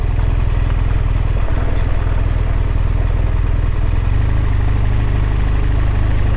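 A BMW R1200RS touring motorcycle rides along a gravel route with frozen patches, its engine a steady low drone with broadband wind and road rumble throughout and no voices.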